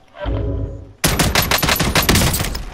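Gunfire in the Warzone video game: a loud, sustained burst of rapid automatic shots starts about a second in and rattles on close and dense, after a brief stretch of quieter game sound.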